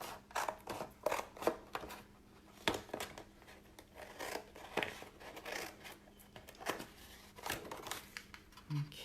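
Scissors cutting paper card along score lines for a small treat box, a quiet run of close, crisp snips and rustles at an uneven pace.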